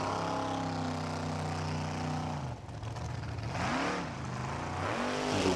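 Formula offroad car's engine at a round of the Icelandic Formula Offroad championship in Blonduos, revving hard with rising and falling pitch as it tackles the course, loud and steady with no voices.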